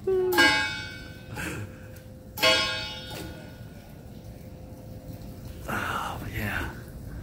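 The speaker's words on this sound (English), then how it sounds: "that bell rings every hour of the day." A bell rings out on the hour near the Point Defiance marina boathouse, its sustained ringing tone carrying under a couple of low voices and nearby knocks and rustles.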